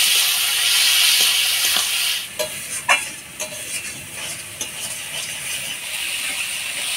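Turmeric, salt and ground spice paste stirred in a pan for a mustard-flavoured dried-fish and Malabar spinach dish, a steady hiss of frying with scraping and clinking strokes in the middle, no talk.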